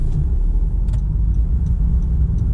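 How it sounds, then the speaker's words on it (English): A new Honda car's engine hums steadily at low pitch as it pulls away, a continuous mid-level rumble with faint ticks above it and no talking. "Oh, come on, I've got a new car. Don't be pulling away like that."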